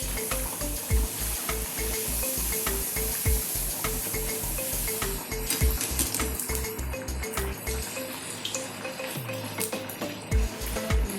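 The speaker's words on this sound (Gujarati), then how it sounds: "હવે આપણે આને તળી લઈશું." Rolled kulcha dough fries in hot oil, making a continuous close sizzle and bubbling under a steady rhythmic thumping beat of background music, with no talking.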